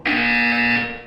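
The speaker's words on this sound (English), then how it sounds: "You will hear a buzzer" A loud, sustained electronic buzzer from the Portal 2 video game sounds alone, holding one steady harsh tone for about a second before tapering off.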